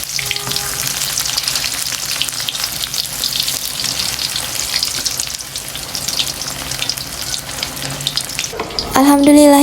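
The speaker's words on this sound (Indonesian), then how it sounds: "Dan lanjut saya mau goreng tempe tepung juga." Battered tempeh fries in hot oil with a dense, steady sizzle that stays loud throughout. Near the end a brief clatter and ringing tones cut in over the frying.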